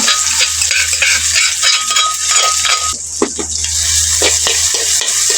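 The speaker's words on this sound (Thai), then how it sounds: "ผัดพริกกระเทียมให้มันหอมกันพี่น้อง" Chilli and garlic stir-fried in a little oil for Thai pork pad kra pao: a loud, bright sizzle fills the pan, with a spatula scraping and clacking against metal in uneven strokes near the end.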